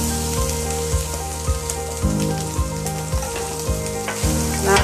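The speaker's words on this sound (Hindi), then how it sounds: "नारियल को थोड़ा रोस्ट होने देना है." Grated coconut sizzles steadily as it roasts in a hot pan for chutney, close and continuous, with regular stirring scrapes every half second or so, and no talking.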